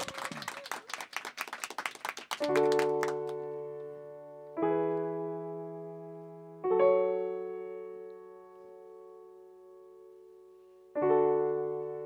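A live radio-show audience claps in a brief, dense burst of applause before a band's second song, fading as sustained keyboard chords take over and repeat.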